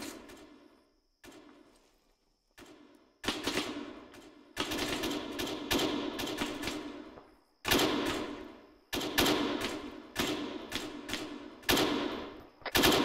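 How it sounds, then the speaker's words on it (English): Bursts of gunfire in the video game Operation Ice Breaker, sharp repeated volleys and rapid automatic strings that pound in clusters for several seconds with short gaps between them, loud and close. "Shots to the west, to the west."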